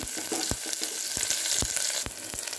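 Mustard seeds, onion and curry leaves fry in hot oil with a dense, close sizzle punctuated by sharp pops and crackles at irregular intervals, heard alone with no talking.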